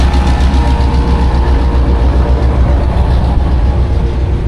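A freight train leaves a country rail station, its heavy diesel engine droning in a loud, steady low rumble with a constant hum and no pauses.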